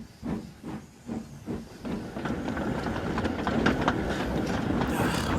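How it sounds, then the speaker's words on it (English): A Hornby model steam locomotive pulls away, giving rhythmic chuffs of hissing steam that start slow and spaced, then quicken and blur into a steady hiss with faint clicking of wheels on track. "Now, if you excuse me, I have to pull this train."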